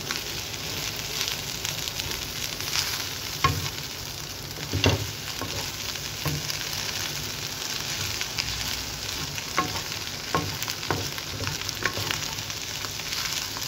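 Fried rice being stirred in a hot pan, a continuous close sizzle broken by scattered scraping and clinking spatula strokes, with no talking.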